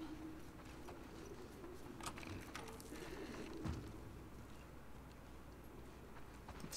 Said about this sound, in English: That sounds like pigeons.